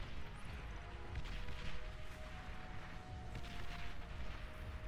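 Artillery in the video game Beyond All Reason keeps up a continuous dense rumble of distant booms and crackling impacts, a steady low roar filling the scene without any clear single shot.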